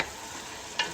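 Chicken curry with potatoes and carrots stirred in a pan, a soft sizzle punctuated by two short scraping clinks of a spoon, one at the start and one near the end.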